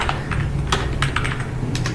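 Rapid typing on a computer keyboard, a close, quick patter of clicking keystrokes in uneven bursts over a low steady hum.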